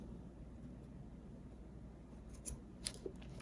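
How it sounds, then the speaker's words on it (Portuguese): Scissors snip crochet yarn close by, a few quick faint cuts clustered near the end after a quiet stretch of low room noise. "Então, aqui, ó, eu vou cortar."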